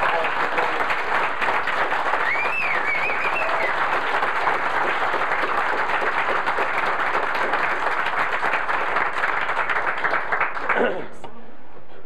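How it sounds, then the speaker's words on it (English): A standing crowd at a Tea Party meeting gives Congressman Price a long round of applause, steady dense clapping with a brief whoop partway through, then cutting off abruptly at the end. "If we could you all stand up and give Congressman Price a big round of applause?"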